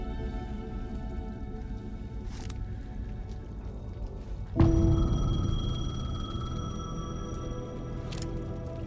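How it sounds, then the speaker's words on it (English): A payphone rings in the video game Alan Wake 2, a sudden bell tone cutting in over a low dark ambient drone and then hanging in the air. "The payphone was ringing."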